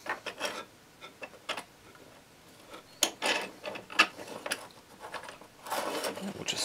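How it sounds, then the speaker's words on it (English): 3D-printed vise parts slide together during assembly. Quiet plastic rubbing and scraping comes in short bursts, with occasional small clicks and ticks close to the microphone. "We'll just slide this assembly almost together."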